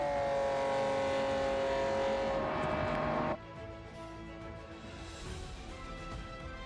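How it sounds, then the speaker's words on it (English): A race car engine in a video game drones loudly at high revs, then drops abruptly to a lower, rougher exhaust note that keeps rumbling. "I don't much care for the exhaust on this car"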